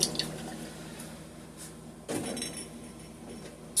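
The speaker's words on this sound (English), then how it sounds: "let's get my oil in the pan" Cooking oil poured into a stir-fry pan, a soft, brief liquid splash and drip near the middle of an otherwise quiet moment, with faint small clicks at the start and end.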